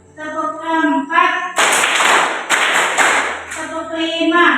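Hands clapping in a classroom counting game, a burst of several quick, crisp claps bunched together in the middle, with children's voices chanting before and after.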